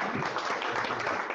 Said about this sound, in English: let's give another round of applause to Camille